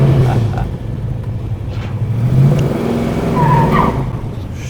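A classic Ford Mustang engine roars and revs steadily up close, with tires squealing in short bursts over the rumble.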